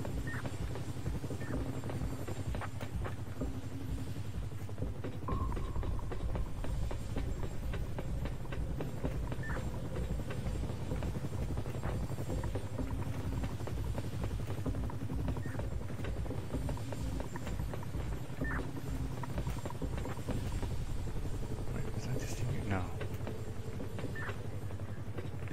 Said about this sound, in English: Oh, there's the helicopter.